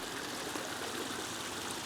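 Water trickles steadily over a garden waterfall feature, a soft, continuous splashing wash that stays even and unbroken throughout, with no voices.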